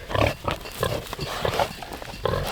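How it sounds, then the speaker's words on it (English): Big farm pigs in winter grunt in short, rapid snorts close by, a busy overlapping run of low grunts lasting a couple of seconds. "So here's our big pigs,"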